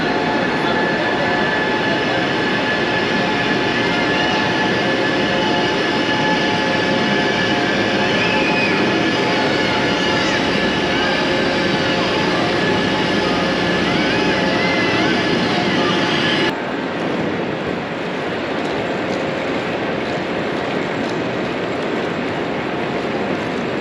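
A train rumbles loudly and steadily through Medina railway station, a dense continuous roar of wheels and engine that drops slightly in level near the end.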